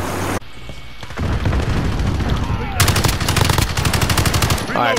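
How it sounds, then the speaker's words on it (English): Rapid automatic fire from the AUG submachine gun in Call of Duty: Modern Warfare: loud, dense bursts over game explosions and rumble, with a sharp, fast-cycling volley in the second half. "This is the AUG right here, guys. I got the AUG. The AUG. Submachine gun."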